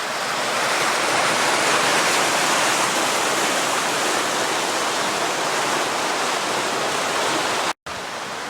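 Creek water rushes steadily downstream in a continuous, full broadband roar close by, with a brief dropout near the end and no voices.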